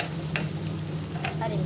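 Ginger and garlic fry in a pan for a chicken-feet curry, giving a steady, close sizzle with a few soft stirring scrapes and no talking.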